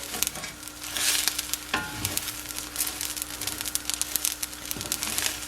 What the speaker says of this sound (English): I put the rice in the skillet and some hot oil with some onion and garlic, and then I fry the rice until it gets a nice brown